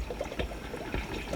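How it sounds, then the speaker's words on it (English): Water trickling and pouring into a guppy fish tank with a thin substrate layer, a soft continuous gurgling stream heard close and fairly quiet. "While he's adding some water"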